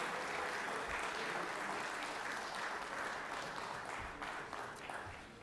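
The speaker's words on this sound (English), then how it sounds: "Give Bruce a good round of applause." A round of applause in the Georgia Senate chamber: many hands clapping at a steady, moderate level from the floor, sounding slightly distant and thinning out near the end.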